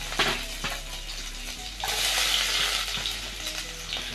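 Garlic sizzles steadily in hot canola oil in a pan, a continuous close crackle that swells around the middle, with a few light stirring clinks and no talk.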